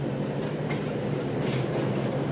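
The Shalimar Express passing through Mirpur Mathelo railway station on the loop line: a loud, continuous roar of rolling wheels and carriages with faint clickety-clack, close and steady throughout.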